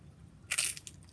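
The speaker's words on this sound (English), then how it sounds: "That was a crunchy chip." A single loud, close crunch of someone biting into a crunchy tortilla chip, a short burst of crisp crackling that fades within half a second, with no talking.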